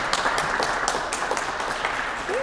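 Audience in a hall at a Talking Book library's 50th anniversary program applauding together, a steady wash of many hands clapping at moderate volume for a couple of seconds, with a brief voice near the end.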